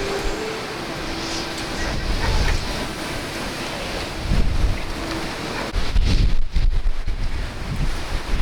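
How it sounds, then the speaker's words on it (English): Strong wind during Hurricane Ian in Orlando, Florida, roaring steadily and buffeting the microphone, with louder gusts surging in toward the end. "the wind is definitely starting to pick up"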